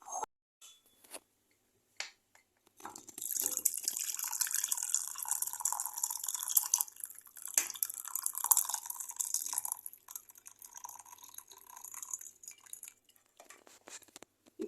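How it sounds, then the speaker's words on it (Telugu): Cooking water from pressure-cooked mutton for haleem poured into a bowl, a thin steady trickle with drips and faint clinks of a utensil, running for most of the span after a few brief knocks, with no talk. "ఇందులోని వాటర్ మొత్తం ఒక బౌల్లోకి తీసుకుందాం."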